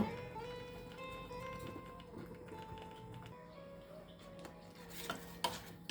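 Food stirred in a pan over a low flame for a lemon dish, with soft scraping and light taps of a spoon against the pan repeating steadily over a faint sizzle, close and quiet.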